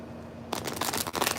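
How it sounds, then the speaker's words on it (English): A deck of tarot cards is shuffled close by, a sudden burst of riffling and rustling after a quiet start, with a few uneven flutters. "So let's give us a little more shuffle."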